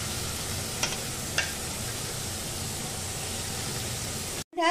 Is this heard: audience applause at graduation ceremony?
no